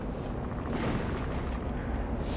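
A sustained heavy rumbling blast from a shredder cannon in XCOM 2: War of the Chosen roars on for a couple of seconds, dense and booming like continuous cannon fire.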